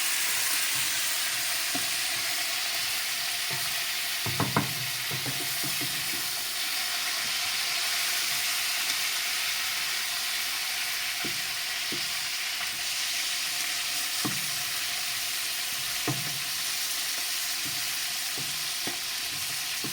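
Bell peppers fry on a wood stove with a steady close sizzle and hiss, broken by occasional soft pops and crackles of the skins blistering.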